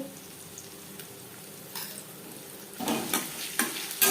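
Crushed garlic and onion frying in a pan, a quiet low sizzle broken by a few louder scrapes and stirring bursts toward the end, close by, with no talking.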